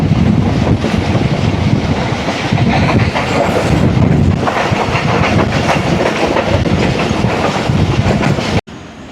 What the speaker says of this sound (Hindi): ट्रेन हमारी टंडो आदम रेलवे स्टेशन पहुंच रही है